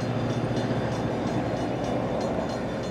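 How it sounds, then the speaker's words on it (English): A CSX freight train led by a GE locomotive rolls past at steady, loud volume, a dense continuous rumble of rail cars with faint clickety-clack throughout and no speech. "So wow, a train on April Fool's Day."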